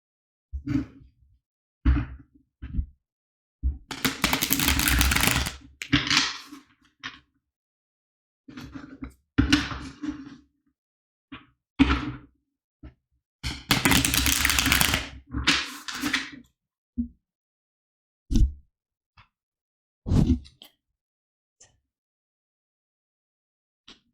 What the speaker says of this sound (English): And now let's shuffle the cards for pile number 2.